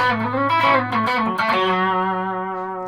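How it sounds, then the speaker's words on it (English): An electric guitar played through a blues distortion pedal rings out with sustained, gritty chords that shift in pitch, loud and close with no talking. "that's maybe called blues distortion"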